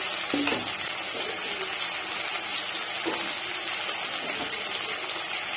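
Fried potatoes and onions sizzle steadily in a pan while being stirred for a kachki fish chorchori, with a few scraping strokes over continuous frying crackle; no talking.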